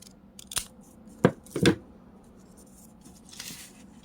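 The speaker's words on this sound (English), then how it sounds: "I think I might trim these edges up a little bit." Scissors trimming the edges of paper clip covers: a few crisp, separate snips close up, the two middle cuts loudest, with light paper rustling between them and no talking.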